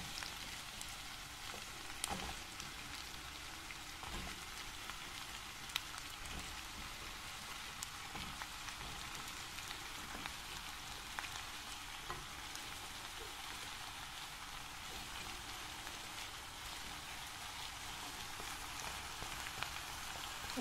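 Green squash and onions fry together in a pot for soup, giving a soft, continuous sizzling hiss with occasional tiny pops, faint and steady the whole time without any voices.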